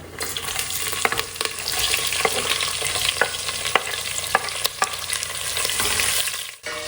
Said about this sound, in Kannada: ಈರುಳ್ಳಿ ಸ್ವಲ್ಪ ಕಲರ್ ಚೇಂಜ್ ಆಗೋವರೆಗೂ ಹುಡ್ಕೊಳ್ಳೋಣ